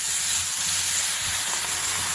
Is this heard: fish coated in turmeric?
yes